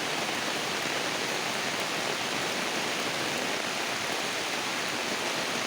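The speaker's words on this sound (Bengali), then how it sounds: "প্রচুর পরিমাণ বৃষ্টি হচ্ছে" Heavy winter rain pours down in a dense, unbroken roar of wash with no letup, loud and constant, and no voices.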